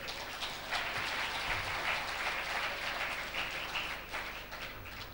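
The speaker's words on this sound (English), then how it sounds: "He deserves another round of applause, please." An audience at the Young Scientists Tanzania award ceremony applauds in a soft, steady wash of many hands, heard from a distance and fairly faint, continuing evenly for several seconds.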